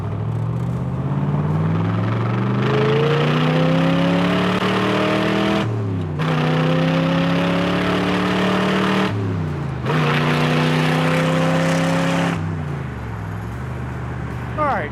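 A loud 1967 Corvette convertible V8 revs in three long climbing pulls, each cut off sharply before the next rise, with the exhaust roaring up close.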